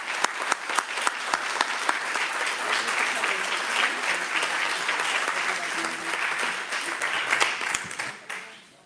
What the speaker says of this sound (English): So we give a round of applause to Javon.